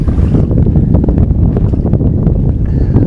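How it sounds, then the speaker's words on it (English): Wind over a big lake, a loud constant roar of gusts battering the microphone, close and unbroken throughout, with faint splashing and boat noise mixed in. "This wind doesn't seem that much, but on this big lake"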